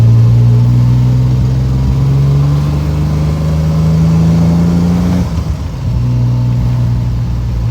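Inside a Triumph TR6, the engine hum climbs steadily under acceleration, breaks briefly at a smooth gear change, then resumes at lower revs, loud and close throughout.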